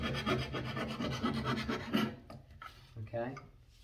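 A hand rasp files wood on a pressed-cane chair, making quick, close, rough rubbing strokes in a steady rhythm. A few sparser scrapes follow as the work eases off.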